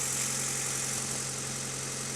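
A Honda Odyssey RA1 van idles with an H22A engine swapped in place of the stock F22, giving a smooth, steady hum with no revving over the short stretch.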